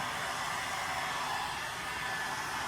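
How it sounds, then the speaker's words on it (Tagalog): A hair dryer comb blows with a constant, even whooshing roar throughout, no voices. "uso na ngayon yung comb na mismo yung blower"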